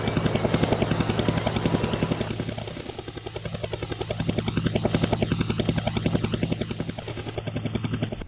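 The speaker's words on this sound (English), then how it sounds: "And the choppers up there, in the night sky" Helicopters fly overhead at night above Alphabet City, their rotors a steady, loud, rhythmic chop that swells and eases slightly, with no other sounds.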